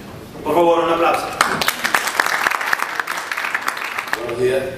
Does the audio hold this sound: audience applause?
yes